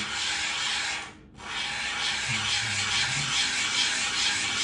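Steady, harsh gritty rubbing of a clipper blade being sharpened on glass continues nearly nonstop, pausing briefly once, close and fairly loud.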